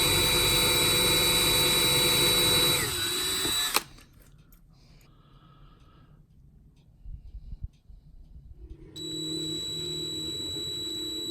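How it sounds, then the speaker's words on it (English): A power drill whines loudly and steadily drilling out rivets on a Lesney Matchbox Mercedes 300 SE toy car, stops abruptly, quiet handling clicks follow, then the drill starts again at a lower, steady pitch. "So you have to drill them out."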